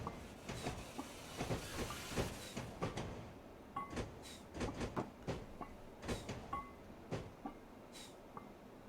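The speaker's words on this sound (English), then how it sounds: "I think this is default Steam train as well" A default steam locomotive runs in Train Simulator 2021 on a Bristol to Exeter route, with a quiet run of rhythmic chuffs, hisses and clicks repeating steadily throughout.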